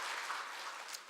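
A church congregation applauds during a Sunday sermon, producing a brief, faint patter of clapping from a distance.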